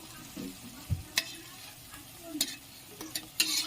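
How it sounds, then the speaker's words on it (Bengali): Quiet sizzling of cottage cheese pieces frying in oil, with a few sharp clicks and scrapes of a utensil stirring the pan, no talking. "এগুলি আমি এবারে লাল লাল করে ভেজে নেব।"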